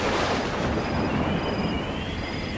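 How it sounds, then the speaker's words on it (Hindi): Wind blows steadily outside a house at night as rain picks up, a continuous broadband rushing with no voices, fairly close and even in level throughout. "बाहर अभी भी हवा चल रही है।"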